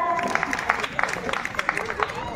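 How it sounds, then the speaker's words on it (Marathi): An audience at a Women's Day program at the Saptashrungi Mata temple claps in scattered, uneven bursts under a speaking voice and light crowd murmur. "टाळ्या उद्या जोरदार."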